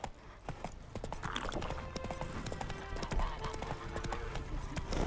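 Hooves of the horse Roach galloping in The Witcher 3, a fast steady clip-clop rhythm running throughout over game ambience, close and loud, with no talk.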